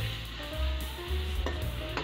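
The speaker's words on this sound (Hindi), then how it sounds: "अच्छी तरह से मिक्स कर दूँ लहसुन अदरक को" Garlic-ginger paste for chicken korma frying in a pan while being stirred, with steady close sizzling and rhythmic scraping strokes throughout, no talking.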